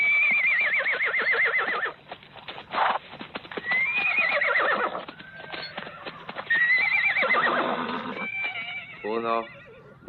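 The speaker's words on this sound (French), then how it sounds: "Prenez les chevaux et filez." Horses neigh and whinny with hooves clip-clopping in a galloping rush, close and loud, mixed with shouts in a Western film scene; a last whinny rises near the end.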